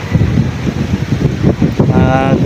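Strong gusty wind buffeting the microphone while fishing for milkfish, low rumbling bursts rising and falling in pulses, loud and close.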